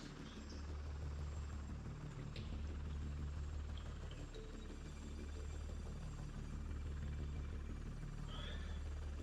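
Helicopter in the Helicopter Gunship D.E.X video game descending toward a landing pad, a steady low rotor rumble and engine drone holding level throughout with faint higher whine above.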